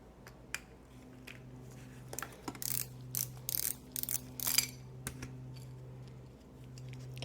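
A screw is worked loose from a rusty Singer 66 sewing machine, giving close, faint metallic clicks and scraping turns in short bursts over a quiet background hum.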